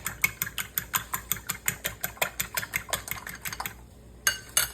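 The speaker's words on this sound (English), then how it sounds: "2 eggs. I'm gonna beat them up." Two eggs being beaten in a bowl, a steady run of quick, crisp utensil taps against the bowl at an even rhythm, briefly pausing before a couple more strokes.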